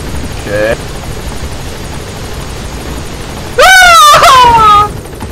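A helicopter in the video game Metal Gear Solid 5: The Phantom Pain drones steadily in the background, while a voice speaks briefly over the rotor noise.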